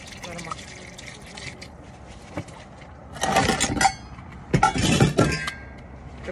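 Water pours into a cup inside a tent in two short splashing bursts, close and fairly loud, with someone talking quietly around them.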